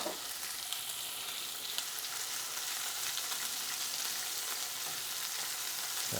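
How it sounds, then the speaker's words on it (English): King prawns flash frying in a hot pan, a steady, even hiss of sizzling oil with a few faint crackles, close and continuous with no talking. "we're going to add these king prawns, and we're just going to almost flash fry them"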